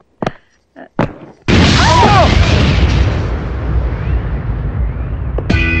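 A small bomb hidden in a suitcase goes off as a comedy film sound effect: a loud, sudden blast that rumbles and slowly decays. A couple of brief knocks come before it, and a short clatter follows at the end.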